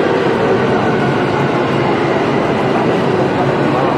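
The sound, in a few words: train on rails near Arashiyama bamboo grove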